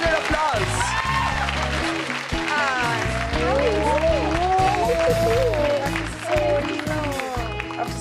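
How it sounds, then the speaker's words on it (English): Audience at a women's event in London applauding and cheering for a sitarist, the clapping blended with music and a voice over the crowd noise. "I want to hear a louder applause."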